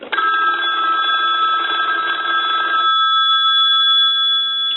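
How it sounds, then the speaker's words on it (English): A Western Electric wood wall crank telephone's bell rings in a continuous metallic trill for about three seconds, then cuts off leaving a faint ringing decay, close and loud with no talking. "So we'll ring the unit."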